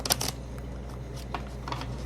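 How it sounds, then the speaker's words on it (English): A deck of tarot cards is shuffled by hand, quiet quick riffling bursts near the start followed by softer scattered card flicks against a low background hum. "Get one more shuffle in."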